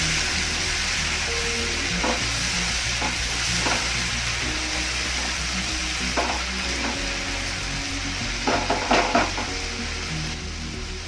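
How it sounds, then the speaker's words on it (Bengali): Spices sizzle and fry in a pan while being stirred for a papaya and katla fish-head curry, a continuous crackling hiss with occasional scraping clinks of a spoon against the pan, close and steady. "মশলাটা ভালোভাবে কষিয়ে নিতে হবে।"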